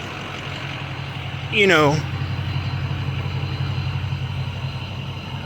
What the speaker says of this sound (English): Let's go listen to that exhaust one more time